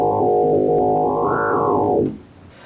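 Sine wave oscillator on a Korg King Korg synthesizer sounds a single held tone with a slight distorted edge, swelling brighter in the middle before fading and stopping.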